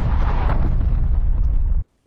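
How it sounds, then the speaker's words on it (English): An artillery strike in a video game during an esports league match: a loud, rumbling explosion lasts nearly two seconds, then cuts off abruptly into silence. "They're going to go and call in their first artillery."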